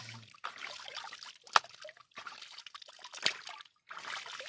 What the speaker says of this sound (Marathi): पाणी फेकत आहे.